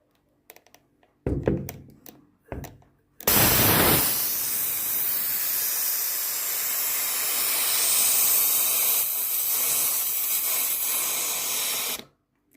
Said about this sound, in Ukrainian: Пропарюю парогенератором.